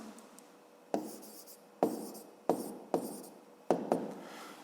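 A pen writing on paper while working a fifth-grade maths exercise: about five crisp, close scratchy strokes, each starting with a sharp attack and fading, spaced roughly a second apart in a quiet room.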